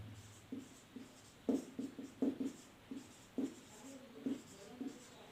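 Marker or chalk writing on a classroom board during a maths lesson, a series of short, quiet scratchy strokes in an irregular rhythm over a soft room background.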